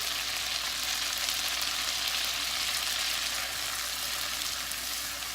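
Butter, salt and honey sizzle steadily in a hot pan, a continuous bright crackling hiss that stays even and close throughout, with no voices.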